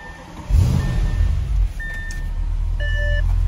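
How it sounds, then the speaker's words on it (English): An Audi S6 4.0T starts, its engine catching with a low rumble and settling into a steady close idle, while electronic chimes beep briefly in the cabin. "let's start the car."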